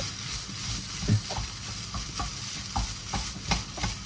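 Breakfast food being stirred and mixed in a hot pan, a steady sizzle under repeated scraping strokes of a spoon, fairly close and moderately loud, with no one talking.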